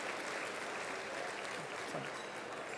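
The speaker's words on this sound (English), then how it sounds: "Give him a round of applause." Guests at the 56th Annual Golden Fellowship Dinner applaud an award honoree, a civil rights attorney, with steady crowd clapping that sounds faint and distant throughout the short stretch.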